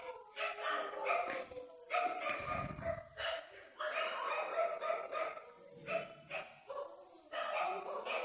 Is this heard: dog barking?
yes